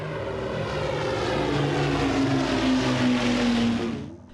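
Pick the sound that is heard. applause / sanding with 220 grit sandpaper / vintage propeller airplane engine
vintage propeller airplane engine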